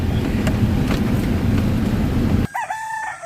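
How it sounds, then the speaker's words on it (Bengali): A rooster crows in a remote village, a short, clear call with a falling tail that rises right after steady low road rumble from a passing vehicle cuts off. "এই দেখো কত মুরগি এই মুরগিদের ডাকেই সবাই উঠে পড়বে ডেকেই যাচ্ছে ওরা"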